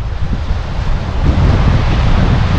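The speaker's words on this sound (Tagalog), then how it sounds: "Oh, nagluloko ang dagat." Rough sea churning in stormy, rainy weather near Fortune Island, a loud continuous roar of surf mixed with heavy wind buffeting the microphone, no distinct wave breaks standing out.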